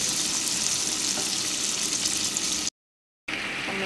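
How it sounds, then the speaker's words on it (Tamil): Tomatoes sauté in oil in a pan for a ponnanganni spinach kootu, making a dense, even sizzle close by that cuts out briefly into silence before resuming. "இந்த தக்காளி இதெல்லாம் கொஞ்சம் நேரம் வதங்கட்டும்"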